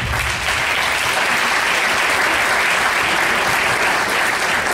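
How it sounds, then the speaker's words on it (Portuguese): Loud, dense applause from an event crowd at São Paulo's MASP, a continuous close wash of many hands clapping that holds steady for the whole stretch. "Uma salva de palmas, por favor."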